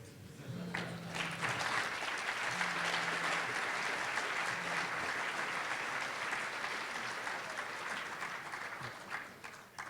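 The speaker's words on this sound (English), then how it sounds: "Thank you for your applause." Applause fills a conference hall after a developer talk, a thick, continuous round of clapping lasting about ten seconds that slowly thins toward the end, with a faint low tone pulsing underneath early on.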